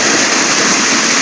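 A stream of water rushes in a steady, loud outdoor flow, a continuous broadband wash of splashing with no breaks.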